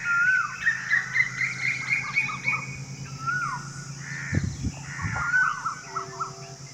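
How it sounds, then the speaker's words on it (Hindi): An Asian koel calls in the morning, its repeated clear calls ringing out in a rhythmic series against quiet rural background noise, with a few low thumps partway through and no talking. "नींद खुलते ही सबसे पहले कोयल की मीठी आवाज़ सुनाई दी"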